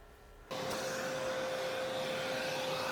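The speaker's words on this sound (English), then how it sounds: "Cleaning the bottom part of the printer is easiest with an industrial vacuum cleaner." An industrial vacuum cleaner switches on and runs with a loud, steady roar and a constant whine while sucking debris from the bottom of a Bambu Lab H2D 3D printer, with no talk over it.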